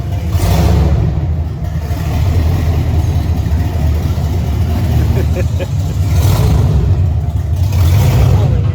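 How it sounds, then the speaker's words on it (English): A hotrod Chevrolet S10 engine revs in repeated throttle taps, a loud, deep, steady drone that swells briefly near the start and again toward the end, with people talking over it. "He keeps throttle tapping."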